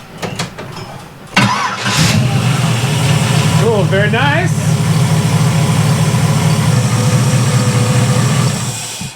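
A car engine cranks and catches, then settles into a steady, loud idle rumble; a person briefly speaks over it.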